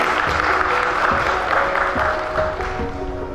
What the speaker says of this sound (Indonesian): Boleh Bapak Ibu hadirin kita berikan tepuk tangan yang meriah.